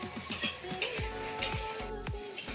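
Eggplant slices frying in a pan, with a steady soft sizzle broken by several sharp clinks and scrapes of a utensil against the cookware, close by and without speech.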